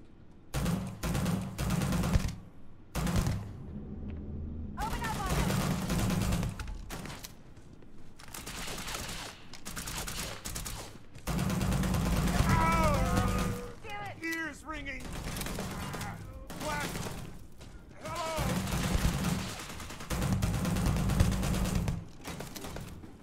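Bursts of gunfire from a Starfield firefight crackle in repeated volleys across the stretch, loud and close, with pauses between them and voices talking over parts of the exchange.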